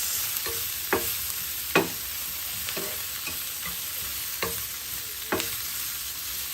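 Gizzards with spices and ginger powder roasting in a pan, with a soft continuous sizzle and a few sharp scraping stirs, close and without speech.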